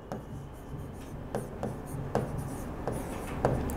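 A pencil fitted to a compass scratches across paper as an arc is drawn in a geometry lesson, soft rhythmic scraping strokes close up, steady and moderately loud with no talking.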